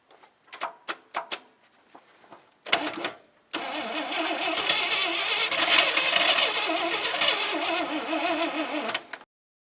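Engine of a 1967 International 1200 truck in an Alaskan winter, close by, with a few clicks and brief cranking bursts before it catches and runs roughly for several seconds, loud and uneven, then cuts off.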